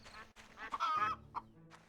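A chicken in a farming life-sim game gives a few clucks and a short squawk, faint and close, with soft background game sounds and no talking.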